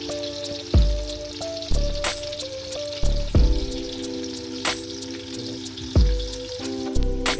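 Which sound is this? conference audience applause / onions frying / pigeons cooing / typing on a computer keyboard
onions frying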